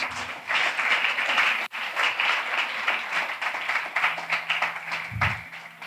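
A church congregation applauds, a sustained, fairly loud round of many hands clapping with a brief dip partway through, before it tapers near the end.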